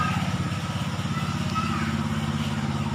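A Suzuki Carry engine with an oil leak and no lubrication, turned over on its starter, gives a steady, close, rhythmic mechanical chugging that stays even throughout.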